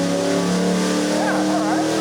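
A 305 small-block Chevy V8 revs hard on an engine dyno, with a loud, steady roar and layered harmonics that hold throughout. Voices talk over it.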